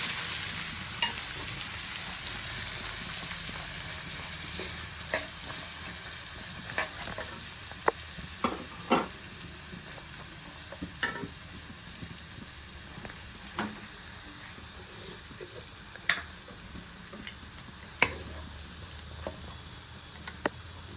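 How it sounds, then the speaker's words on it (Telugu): Half a kilo of cut bitter gourd pieces frying in oil in a wok, a continuous hiss and crackle with intermittent clicks and taps from stirring, close and moderately quiet throughout, no voices. "ఆయిల్లో 1/2 కిలో కాకరకాయలు వేస్తున్నాను."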